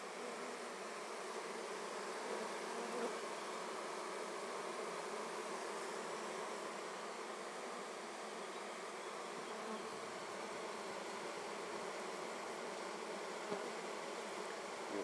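A dense, steady hum of many bees fanning at a hive, continuous and unbroken, close by with no other sounds.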